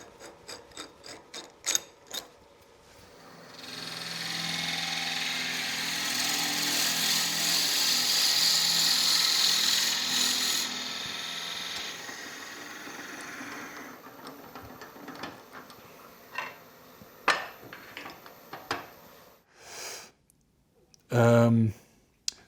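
A whirring lathe spins up and grinds steadily for several seconds drilling a hole in wood for a pepper mill, framed by ratcheting clicks and clunks before and after, with brief talk.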